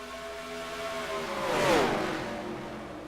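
Stock car race cars in a video game race at Auto Club, a steady engine drone rising as a car passes close by with a pitch sweep near the middle, then fading back to the ongoing engine whir.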